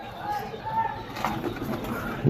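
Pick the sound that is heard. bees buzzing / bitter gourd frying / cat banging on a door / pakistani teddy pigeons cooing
pakistani teddy pigeons cooing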